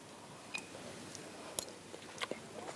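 Someone chews a soft potato, aubergine and tomato dish with a slightly crunchy garnish, producing quiet, close, irregular wet crunches and small bites against a low background.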